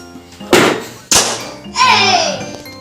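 A toy air pistol fires with a few sharp, close thunks spaced about half a second apart, followed by a rattling clatter, while a voice is heard around the shots.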